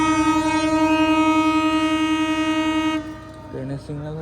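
The Chattala Express sounds a long, loud, steady horn blast at Hasanpur railway station. It cuts off after about three seconds, and a couple of shorter tonal honks follow over a background hum.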